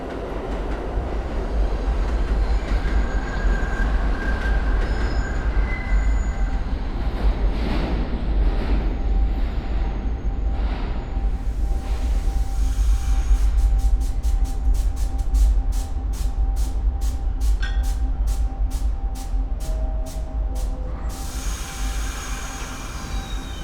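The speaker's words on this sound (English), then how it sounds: "This is a Discount Boulevard bound Amtrak train." A New York subway train bound for Astoria Boulevard rolls along with a steady, loud rumble and a high wheel squeal, then a run of rhythmic clicks of wheels over rail joints in the later part.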